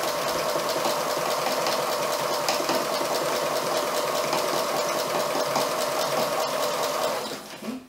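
A sewing machine runs steadily while stitching pajama pant fabric, a close, even motor whir with rapid needle clatter that winds down and stops at the end.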